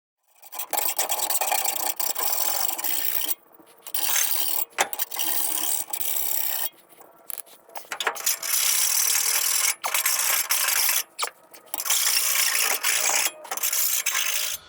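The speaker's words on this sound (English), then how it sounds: "put the saw on that and just try to square them edges up a little bit" A hand saw squares up burred metal edges with close, loud rasping strokes that come in bursts, broken by several short pauses between passes.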